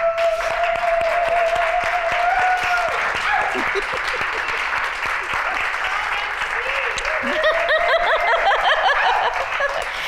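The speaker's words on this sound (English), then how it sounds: "can we take a moment and stand and give him a round of applause of appreciation?" A standing crowd at a season closing ceremony claps steadily in sustained applause, with scattered chuckles and a voice talking over the clapping.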